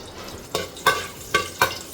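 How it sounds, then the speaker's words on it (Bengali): Two split dried red chillies frying in oil for a shrimp and Malabar spinach dish, a low sizzle broken by four quick scraping stirs of a spoon in the pan, spaced close together. "ফার্স্টে আমি তেল দিলাম, শুকনো মরিচ চিড়ে দিলাম 2টা"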